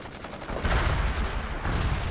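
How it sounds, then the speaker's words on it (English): Sustained machine gun fire in the World in Conflict strategy game crackles as a dense, continuous burst of rapid shots with rumbling low-end, loud and close for the whole stretch. "Fires a machine gun."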